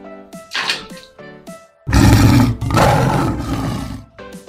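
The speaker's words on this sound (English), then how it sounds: "Lion." Loud lion roar from an animal toy, a long rough roar that swells and fades, set between bright tinkling toy music at the start and end.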